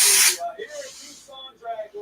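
Electronics cleaner aerosol sprays in a loud, sharp hiss for about a quarter second at the start, then cuts off, leaving quieter handling sounds while working on an ARRMA Kraton RC car.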